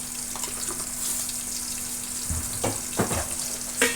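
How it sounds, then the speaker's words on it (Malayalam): Chicken curry frying steadily in a pan, a continuous close sizzle with a few scraping stirs of a spoon near the end and no talk. "ഒന്നുകൂടി ഒന്ന് ഇളക്കി കൊടുക്കണം കേട്ടോ അല്ലെങ്കിൽ അടിക്ക് പിടിക്കും"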